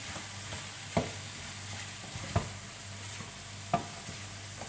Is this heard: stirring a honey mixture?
yes